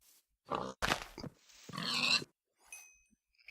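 Pig grunting in a modded, Minecraft-style farming game set in a snowy biome: several short, close grunting bursts in quick succession, followed by a few faint, brief chimes.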